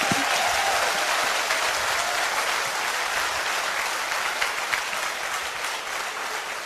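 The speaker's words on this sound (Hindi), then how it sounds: "तालियां बजानी है तो तसल्ली से बजा दो" An audience claps steadily and continuously throughout, a dense, even wash of applause with no voices over it.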